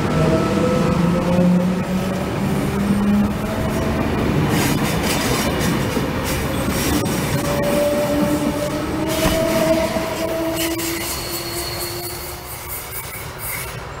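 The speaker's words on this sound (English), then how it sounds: "The service is just about to creep up behind us now. It's now departing." A passenger train, set V23, pulls out of Linden station and rolls away, with steady rail rumble, wheel squeals and clickety-clack that fade slightly toward the end.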